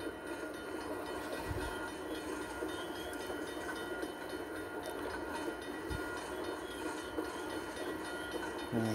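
A long freight train led by two F unit locomotives, four engines in all, rolls through a rail yard in a train simulator game, giving a steady, continuous rumble of engines and cars throughout.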